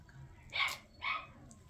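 Seven-week-old female mini retriever puppies give two short, high yips about half a second apart, close by over a quiet low background.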